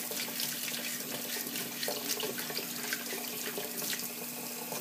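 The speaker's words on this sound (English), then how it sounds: "simply run warm water over the blades" Warm water runs steadily from a kitchen tap over the blades of a plastic spiral vegetable slicer, a constant close splashing hiss under a faint hum, with no talk.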